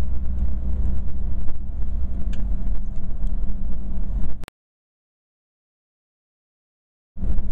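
Inside a car accelerating after a shift into fifth gear, a steady engine and road rumble runs for several seconds before cutting to silence, then returns briefly at the very end.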